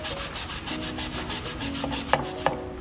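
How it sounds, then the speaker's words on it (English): A handheld sander rubs along the edge of a wooden lazy susan turntable, a steady scratchy abrasive hiss with a few sharp knocks near the end, moderately close and alone. "You can take your sander, use it on the edge in certain spots just to create more worn areas."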